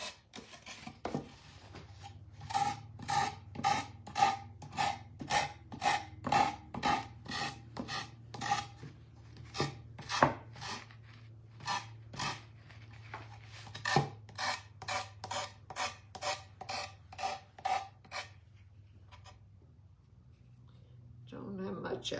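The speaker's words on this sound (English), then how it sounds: "Let me get it sanded off where it needs to be." A wooden piece is sanded by hand with steady rhythmic rasping strokes, about two per second, close and fairly quiet, pausing briefly in the middle before a final stroke at the end.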